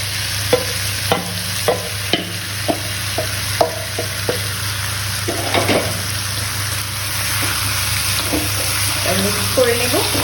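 Jackfruit stirred into browned frying onions in a pan, a continuous soft sizzle with repeated scraping clinks of a utensil spaced through it.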